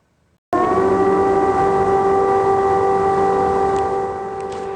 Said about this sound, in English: Air raid sirens wailing in the Ukrainian capital of Kyiv